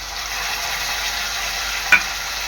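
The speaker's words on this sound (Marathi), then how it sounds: "कांदा आपला इथे चांगला लाल झालेला आहे यामध्ये टाकणार आहे मी टोमॅटो बारीक चिरलेला" Finely chopped tomato fries with browned onion in hot oil, a steady, close sizzle with one brief clink of a utensil partway through.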